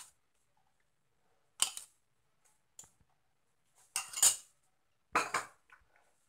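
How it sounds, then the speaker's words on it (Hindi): Ghee spooned into a pan on a gas stove: a handful of sharp metallic clinks and scrapes of a spoon against the pan, spaced apart, close and fairly crisp, with quiet gaps between and no talk. "इसमें घी डालेंगे 1 चम्मच"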